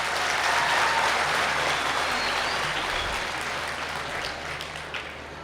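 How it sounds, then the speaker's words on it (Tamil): Sustained audience applause in a Tamil family-themed talk event, a dense steady wash of many hands clapping that fills the whole stretch and eases slightly toward the end, with no voices over it. "எல்லாம் நல்லா ஓகி ஒரு கைத்தட்டு தட்டுங்க பார்க்கலாம்"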